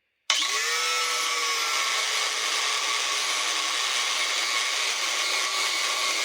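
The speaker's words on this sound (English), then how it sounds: "these tabs for the original skid plate are in the way, so I'm going to have to cut those off" A power tool cuts away metal tabs that held the original skid plate on a Toyota FJ Cruiser during a long travel suspension install, giving a loud, steady high-pitched whine that starts abruptly and runs unbroken for about six seconds.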